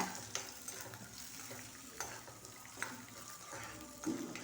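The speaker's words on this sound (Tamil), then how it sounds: "நல்ல கலர் மாதிரி பொறிஞ்சு வர வரைக்கும் பொறுமையாக வறுத்தெடுத்துக்கோங்க" Urad dal and raw peanuts roast in a dry pan, heard as quiet, continuous scraping and rattling as they are stirred, with occasional light clinks of the spoon against the metal.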